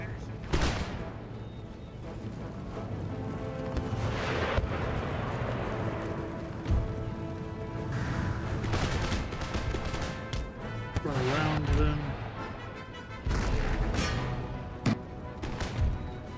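Shrapnel artillery in Empire Total War fires in repeated booming bursts, mixed with crackling musket volleys and battle noise, and a voice calls out partway through.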